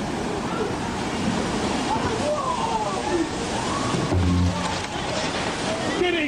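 Rushing, churning water from a tsunami wave during the 2004 Indonesia disaster, a loud continuous roar and slosh filling the whole clip, with people shouting and talking over it.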